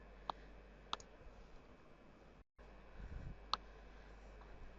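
A computer mouse clicks faintly in a quiet room, several sharp isolated ticks spaced a second or two apart, with one paired click close together and no talking.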